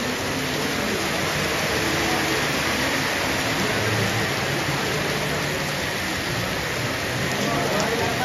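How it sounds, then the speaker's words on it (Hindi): Heavy monsoon rain pours down at Ardhkuwari on the Vaishno Devi route, India, in a dense, constant hiss, loud and unbroken throughout. "जबरदस्त बारिश हो रही है।"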